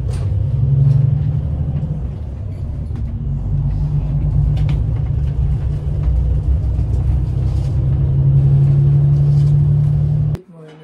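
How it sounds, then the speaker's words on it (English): Route 6017 city bus on a late-night ride to Seoul, its engine producing a steady, loud low rumble throughout with occasional revving swells, heard from inside the cabin until an abrupt cutoff near the end. "This is my bus."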